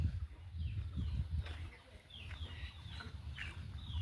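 Chickens cluck and squawk nearby in a village yard, several short calls over a low background murmur, fairly quiet overall.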